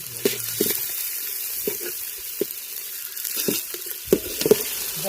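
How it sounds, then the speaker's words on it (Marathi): Onion and garlic fry in oil in a pan with a steady soft sizzle, broken by several sharp stirring scrapes and clinks spaced through the clip, close and moderately loud with no talking. "मित्रांनो तेल आणि कांदा व्यवस्थित फ्राय झाला आहे"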